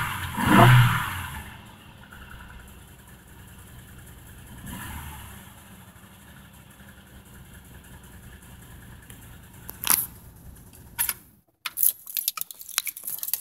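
A van engine that is low on gas starts with a loud rumbling burst, then settles into a steady idle hum, with a few sharp knocks and clatters near the end.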